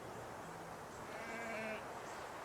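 Sheep bleat from sheep farms in the city-building game Anno 1800, a few wavering cries rising over a steady, soft ambient game bed.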